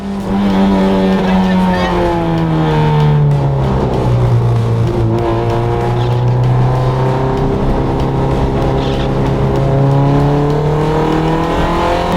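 A race car on cold series-spec semi-slick tyres drives through torrential rain, its engine droning loudly up close with rising and falling pitch through gear changes, under a steady wash of spray and occasional talk.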